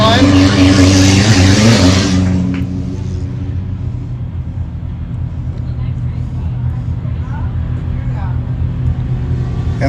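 Stock truck race engine at the High Desert 100 in Powell, Wyoming, roaring loud as it crosses the finish line, with a sustained low rumble that eases slightly after the first couple of seconds while a commentator talks over it.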